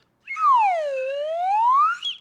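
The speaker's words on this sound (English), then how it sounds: "can never have enough slide whistle" A single slide whistle glides down in pitch and then climbs back up, loud and clear, lasting about two seconds with nothing else around it.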